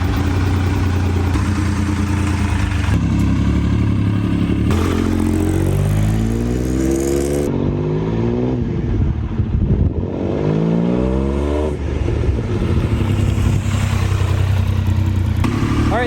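A 1999 Triumph Daytona motorcycle engine runs loud and close as the bike rides up and down a driveway, with steady low rumble, rising revs and gear-change swoops, no talk.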